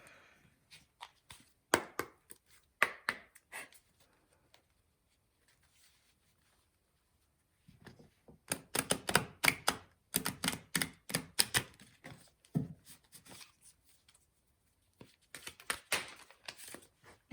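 Tarot cards drawn from a deck make crisp, close flicking and tapping sounds in scattered bursts, with a denser run of rapid card snaps midway and pauses of near silence between.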